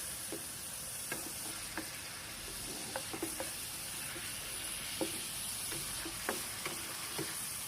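Prawns frying in a pan until golden for devilled prawns, a steady quiet sizzle with scattered ticks and light scraping clicks from stirring, no voices.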